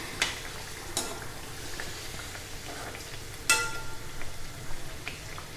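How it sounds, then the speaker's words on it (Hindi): Thekua fry in hot oil and are turned over, producing a low, even bubbling hiss with a few brief knocks and scrapes, close but faint. "बस इसको उलट पुलट करके और बढ़िया रेड कलर के ठेकुए हमको तलना है"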